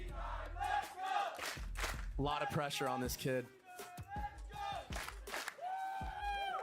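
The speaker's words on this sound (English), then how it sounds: "The crowd needs to hype up C9 to keep them in this." A Valorant esports watch party crowd shouts and cheers for the C9 team, rising and falling beneath continuous commentator talk.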